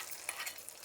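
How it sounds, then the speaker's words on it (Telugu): Hot tempering sizzling as it is poured into cooked dal, a short steady crackling hiss, close and fairly loud, with no voices. "పోపు అయితే పెట్టేసినామండి, ఇప్పుడు పప్పులోకి వేసేద్దాం."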